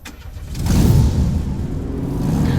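A car engine rumbles steadily and swells after the first second, holding a low, even drone as the vehicle pulls away, with no talking.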